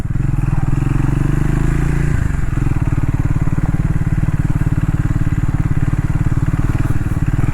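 Adventure motorcycle riding on a dusty road in North Goa, a loud, close engine with a rapid, steady chugging pulse that shifts pitch briefly near the start, then holds steady.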